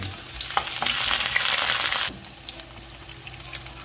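Loud sizzling and crackling of garlic frying in a hot pan, with a few clinks, then the sizzle drops sharply to a quieter hiss.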